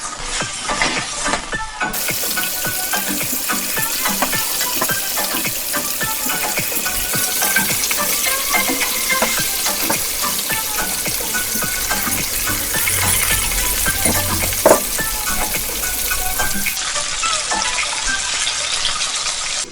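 Tomatoes, cashews and spices with salt and warm water stirred and simmering in a pan for Jain mutter paneer, giving a steady bubbling, watery frying hiss with occasional scraping throughout.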